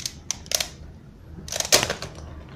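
A ShengShou speed cube is turned in quick bursts of sharp plastic clicks and clacks, up close and loud, with a short pause between the two flurries.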